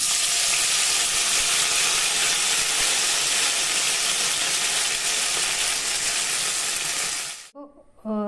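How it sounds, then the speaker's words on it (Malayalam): Beef dropped into a pan of hot oil fries with a loud, dense, continuous sizzle that fills the whole stretch, then cuts off abruptly near the end, leaving a few faint clinks. "നമുക്ക് ഈ പാനിലേക്ക് ബീഫ് ഇട്ട് കൊടുക്കാം."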